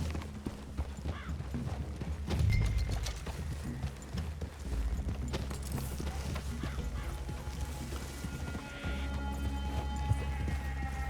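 Horses clip-clop steadily through a forest clearing in Red Dead Redemption 2, hooves thudding close over a dense game soundscape with an occasional snort and faint voices.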